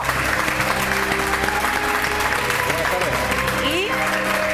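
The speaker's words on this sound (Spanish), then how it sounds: "Con todos ustedes, Max Verdier, un aplauso." Loud, continuous audience applause in a television studio welcomes a guest onto a talk show, steady and dense, with music playing underneath.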